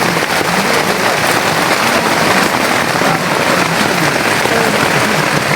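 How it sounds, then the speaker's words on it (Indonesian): Steady rain pours down on a hike up Mount Ciremai via the Apuy trail, a dense, even hiss of drops that stays loud and close the whole time with no voices over it. "Hujan guys."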